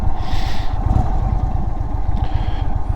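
An Indian Chief motorcycle's 1900cc V-twin rumbling loud and close, a steady deep throb with brief swells of wind or mechanical hiss, and no talking.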